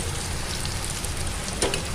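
Steady sizzling of chopped onions frying in a pan, a continuous crackling hiss with a brief louder pop near the end, no talking.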